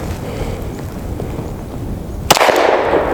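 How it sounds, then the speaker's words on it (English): A single loud gunshot bursts out from a Glock 23 pistol firing expensive .40 caliber Underwood Xtreme Penetrator rounds over a chronograph outdoors on a windy day, following steady wind rumble and leaving a broadband tail. "So here we go over the chronograph, 3 rounds each because this ammo is just too expensive to shoot more than 3 rounds."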